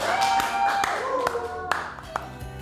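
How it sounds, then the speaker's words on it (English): A studio audience gives David Meade a round of applause. Sparse, distinct claps ring out over ongoing speech. "A round of applause in studio."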